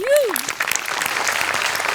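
A studio audience at a Marathi stage comedy show bursts into strong applause for the Goswamis, a dense wash of clapping that follows a short voice and carries on steadily.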